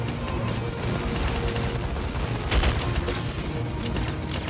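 Dense, continuous gunfire from the Counter-Strike: Condition Zero video game, a loud sustained barrage of overlapping shots and booms with a heavier burst midway.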